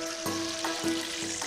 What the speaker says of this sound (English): they're simply deep-fried in hot oil